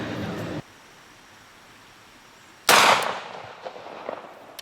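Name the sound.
380 pistol firing a jacketed hollow point round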